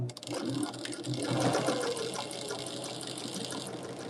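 A sewing machine runs steadily, stitching a quarter-inch seam along the cutting lines of a quilt block of half square triangles. The whir is continuous and fairly close, with no talking over it.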